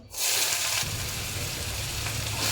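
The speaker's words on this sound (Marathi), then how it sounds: "त्यामध्येच आता फुडणी टाकून घेते इथं मी कांदा आणि टॅमॅट घेतलेला आहे" Onion and tomato hitting a hot pan for a tempering, a sudden loud hiss that settles into a steady, close sizzle of frying lasting throughout.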